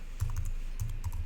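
Two quick bursts of keystrokes on a computer keyboard as a command is typed into a terminal, close and crisp, with a brief pause between the bursts and no talking.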